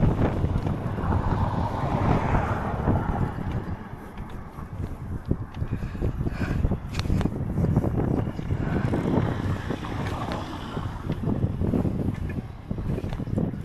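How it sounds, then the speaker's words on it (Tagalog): Strong wind buffeting the microphone while cycling in a bike lane, with rough, gusty rumbling that persists throughout, carrying faint mechanical and water-like noise beneath it. "Ang lakas ng hangin."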